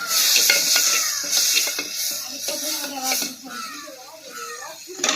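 Tomatoes fry in a clay pot for fish curry while a utensil stirs and scrapes against the pot, giving clattering knocks and a soft sizzle under a person talking.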